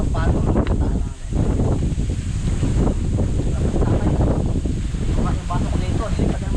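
Strong wind buffets a seaside campsite at Puerto Azul, roaring and gusting against the microphone in a constant rough wash, with surf nearby and people talking over it.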